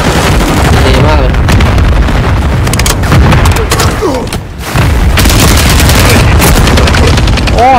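Rapid gunfire from an online multiplayer shooter game, sharp repeated shots and booms filling the mix at steady loudness, with a voice speaking over the action and a brief lull midway.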